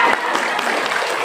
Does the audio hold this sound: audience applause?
yes